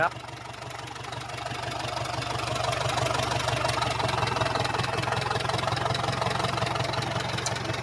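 A car engine runs steadily nearby, a low rumbling idle with a rapid ticking rhythm that swells slightly louder partway through.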